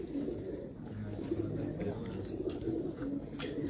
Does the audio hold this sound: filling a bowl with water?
no